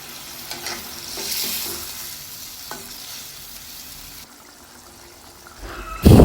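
Tilapia curry in a pan, fried pieces of fish being stirred as the thick sauce cooks down, a steady sizzle with scraping stirs throughout and a louder clatter at the end.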